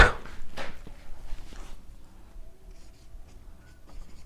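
Marker or chalk writing on a board during a chemistry lesson on amine basicity, a few quick scratchy strokes at the start, then quieter with faint background hum, no speech.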